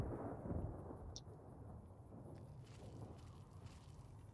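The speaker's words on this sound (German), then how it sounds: "Hört sich dann Gewitter an." Thunderstorm in the video game Fallout New Vegas near Black Mountain: a low, rolling rumble of thunder with a faint rain-like wash underneath, steady and moderately quiet throughout.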